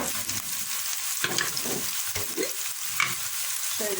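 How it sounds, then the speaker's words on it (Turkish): A bulgur pilaf mixture with potato is sautéed and stirred in a pan, giving a soft sizzle broken by repeated scraping stirs, fairly quiet and with no voices. "Şöyle biraz kavuruyoruz."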